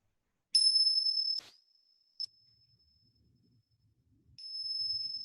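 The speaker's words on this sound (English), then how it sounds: "And just letting the sound of the bells" Meditation bells ring at the close of a guided mindfulness practice: one bright chime sustains then is cut short, a brief tap follows, and another clear ring swells back in against quiet.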